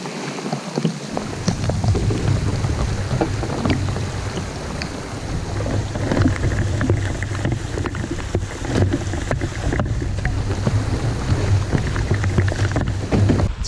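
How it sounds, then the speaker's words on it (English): Strong wind howls across Rock Lake in Algonquin, a steady, loud, rumbling roar buffeting in gusts, with a patter of light rain on a tarp. "Probably be able to hear how windy it is down here, just howling."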